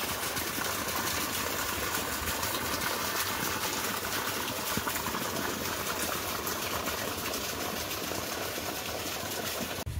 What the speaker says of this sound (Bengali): চলুন ধান জমিতে জলটা দিচ্ছি